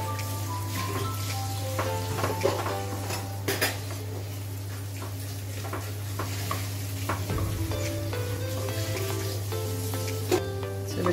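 Egg biryani ingredients fry in a pan with a steady sizzle under a constant low hum, while a utensil scrapes and clinks against the metal now and then.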